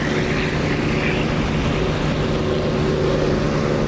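A chunky radial aircraft engine in the DCS flight simulator drones steadily and loudly throughout, a constant throbbing hum with no breaks and no talk over it.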